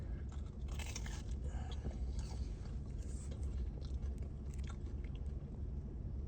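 Someone bites into and chews a crunchy Burger King apple pie close to the mic, with quiet, continuous crunching and no talk.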